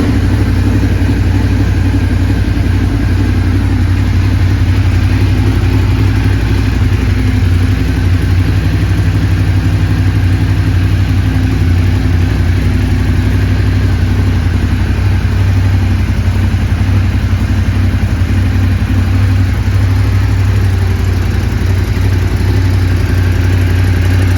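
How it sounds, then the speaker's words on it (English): A 2016 Ducati Monster 821 motorcycle engine idles steadily and loudly nearby, a continuous low throb that stays even throughout with no voices. "Let's give the bike a start up for you."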